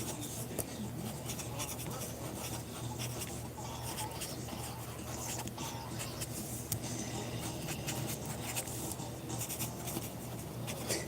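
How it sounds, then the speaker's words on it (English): Pen writing on cards for a reading, a steady close scratching and rubbing across the whole stretch, with faint background noise and no speech. "I said I was gonna start writing on these cards"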